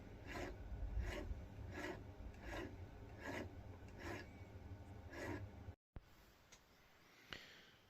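A hand file rasps excess metal off a handmade silver ring in about seven regular back-and-forth strokes, close but quiet, then stops and leaves a few faint scrapes and knocks.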